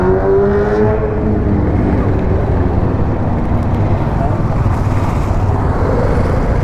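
Several Hunter 350 motorcycles idle and rumble together as a group breakfast ride gets underway, a loud, steady low engine drone with one rising rev early on and voices talking over it.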